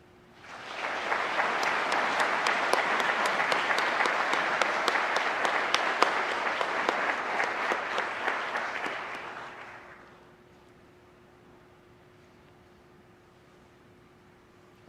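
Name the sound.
applause at police recruit graduation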